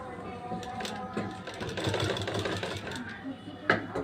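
An electric sewing machine runs steadily for a few seconds, stitching a neckline strip onto a Bangladeshi-style women's nightie, a fast, close, buzzing whir with small clicks and rattles.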